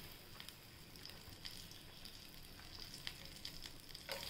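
Green chillies, peppercorns, cumin, cinnamon and cloves frying in oil for a brinjal gravy, a faint, continuous soft sizzle with occasional light crackles and pops.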